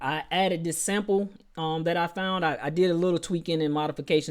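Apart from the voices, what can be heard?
No distinct noise like a dog, phone or traffic.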